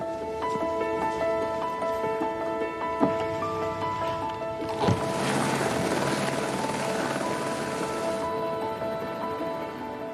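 A helicopter flying over the Arctic wilderness drones steadily throughout, its rotor and turbine noise loud and close, with a brief thump midway and a hissing rush building toward the end.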